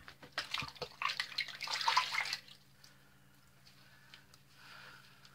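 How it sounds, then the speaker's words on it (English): Tap water runs during a rinse after a shave with an open comb safety razor, a faint, steady splashing hiss that fades after a couple of seconds to a quiet trickle. "I'm going to rinse off."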